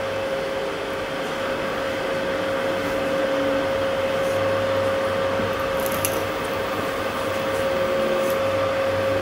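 An Anycubic Kobra 3D printer runs with a steady mechanical whir and a sustained tonal hum, small stepper noises ticking faintly underneath, close by and continuous with no talk.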